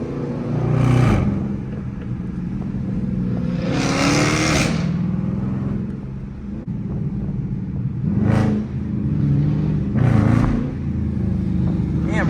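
A Dodge Charger R/T engine in city traffic winds up toward its redline, with several loud rising revs standing out over a steady drone of road and cabin noise. Brief talk is heard faintly in between.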